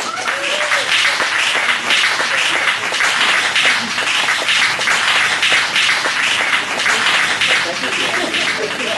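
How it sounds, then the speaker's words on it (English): Sustained, dense applause from a large audience honoring a storyteller named Janet, loud and steady across the whole stretch with no gaps. "give Janet another round of applause"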